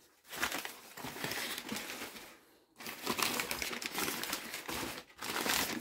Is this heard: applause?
no